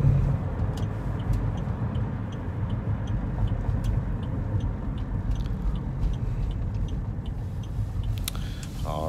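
A 2008 Range Rover crawls through deep snow in four-wheel drive, its engine a steady low drone under a constant crunching, rushing wash of snow, near and moderately loud.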